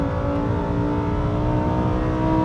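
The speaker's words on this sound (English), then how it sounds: "The engine is magnificent." A supercar engine revs hard on a lap of the Knock Hill circuit in Scotland, its loud, sustained exhaust note rising steadily with a dense harmonic drone and no voices over it.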